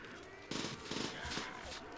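Stoner machine gun fire in a Call of Duty custom zombies game, two short rattling bursts of rapid shots followed by more broken bursts over a steady game background.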